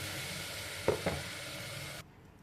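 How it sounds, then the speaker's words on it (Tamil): Tomato paste sizzling in a hot frying pan while cooking vegetable biriyani with small millet. There is a steady frying hiss, a couple of soft stirring knocks, and the sizzle quiets near the end. "ஒரு ரெண்டு தக்காளியை இது மாதிரி பேஸ்ட்டாக அரைச்சிருக்கேன் மிக்சியில் அதை அப்படியே சேர்த்துக்கலாம்"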